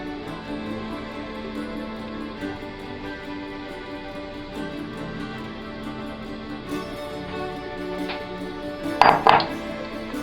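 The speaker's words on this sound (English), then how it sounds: "I'm just going to go ahead and mix that into the mashed bananas." Butter, brown sugar and eggs being mixed into mashed bananas for banana bread, heard as steady soft stirring in a bowl with a brief cluster of utensil clinks against the bowl near the end.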